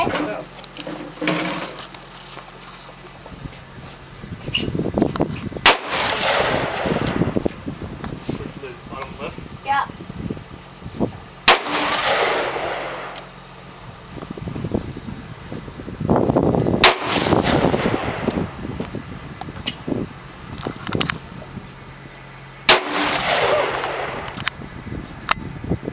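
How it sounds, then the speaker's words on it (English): Loud gunshots crack out at a shooting range, several single reports spaced a few seconds apart with echoing tails, while people talk in between. "Good shooting, Bob."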